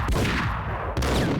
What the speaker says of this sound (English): let's do a sawed-off shotgun